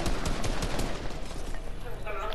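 Rapid gunfire in a video game as a player shoots his own teammate, a dense burst of shots opening the moment and thinning out, with voices talking over the fire.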